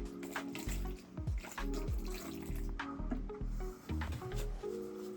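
Water runs and splashes in uneven bursts, with clinking of small metal tongs being rinsed under a flow of distilled water, close by.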